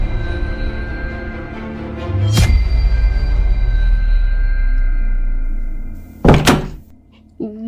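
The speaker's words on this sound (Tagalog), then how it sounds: "Bigla na lang nagsara ang pinto ng basement." A basement door slams shut with a heavy thunk, followed by a second sharp bang a few seconds later, loud and near over a low droning background.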